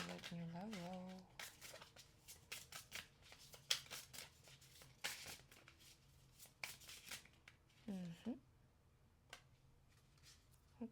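A deck of cards is shuffled and a single card drawn, making soft, crisp flicks and riffling taps that come in irregular bursts at low volume. Brief vocal sounds surface between them.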